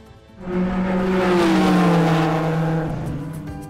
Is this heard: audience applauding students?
no